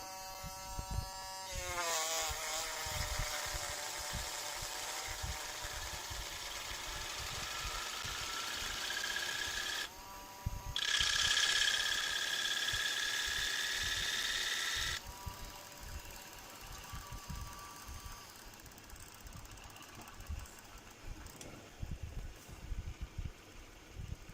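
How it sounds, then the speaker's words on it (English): A power drill whirs steadily with a rising whine and rattling buzz as it spins a magnet motor rotor by its inside rim, cutting out and restarting several times up close before winding down. "Let's just spin it with my drill again."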